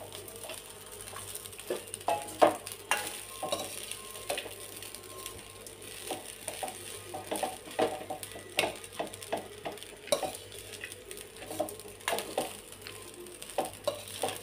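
Spice powder is stirred into rice in a pan with a spoon, giving repeated scraping and light clinking strokes in an irregular rhythm over a faint steady hum.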